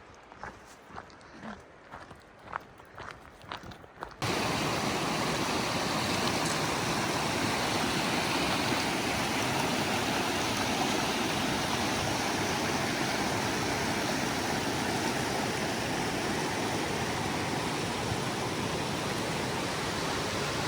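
Cataract Creek rushes loudly and continuously in a broad, steady roar of flowing water. A few scattered knocks precede the sound for the first four seconds, and the flow then runs uninterrupted.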